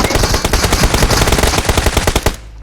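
Rapid automatic gunfire in a competitive shooter video game, a loud, dense burst of evenly spaced shots from close by that runs for over two seconds before cutting off into quiet.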